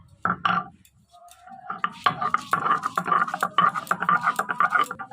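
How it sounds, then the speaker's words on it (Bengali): Ginger and green chillies being crushed together on a grinding stone, heard as close, rhythmic knocking and scraping strokes that start tentatively, then settle into a steady, quick beat. "আদা আর লঙ্কা একসাথে বাটবো, আদাটা ছেঁচে নেই।"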